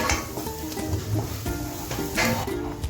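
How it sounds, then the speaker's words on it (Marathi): Coarsely ground raw peanuts roast in oil for a traditional gram-greens bhaji, giving a steady close sizzle broken by repeated stirring scrapes and light pan knocks throughout. "हे चांगले तेलात भाजून घ्यायचे"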